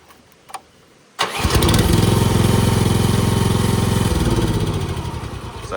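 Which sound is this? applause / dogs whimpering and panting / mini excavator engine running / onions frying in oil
mini excavator engine running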